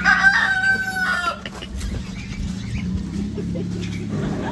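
A rooster crows loudly and close by, a long strained call followed by clucking and scratchy farmyard noise.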